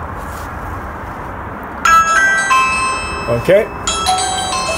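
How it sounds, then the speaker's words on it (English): Ring Video Doorbell Pro chime sounding through a Ring Chime Wi-Fi extender, a bright multi-note electronic melody that starts abruptly and rings out clearly, with a person speaking briefly over it. "We've got this ringing. We've got our Ring Chime Wi-Fi extender going, and it also activates the doorbell."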